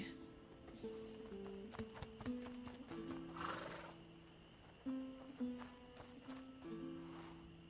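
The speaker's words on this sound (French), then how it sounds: "Oh, un cheval." Horse in the video game A Plague Tale: Innocence gives a loud, close whinny with several sharp harmonic neighs, while hooves clip-clop steadily underneath.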